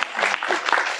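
Brief burst of audience clapping after a talk at an Open edX conference, dense and fairly loud, filling the moment without speech.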